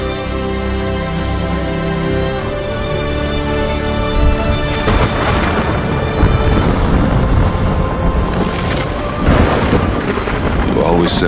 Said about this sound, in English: Said a storm was coming.